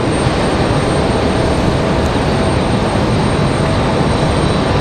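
Avelo airliner taxiing uphill toward Terminal 1 at Raleigh Durham International, a loud unbroken engine hiss and rumble filling the whole span with no voices.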